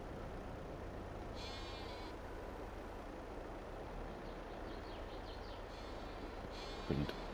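Sheep bleating in Farming Simulator 22, a few faint high bleats over a steady engine drone from farm machinery, with a low thump near the end.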